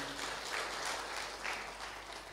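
A church congregation at a Sunday service claps together, a steady, fairly faint patter of many hands that continues throughout with no speech over it.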